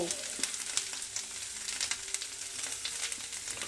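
Chili and turmeric powder masala sizzles steadily in a pan, a constant close frying crackle with brief stirring scrapes, no voices.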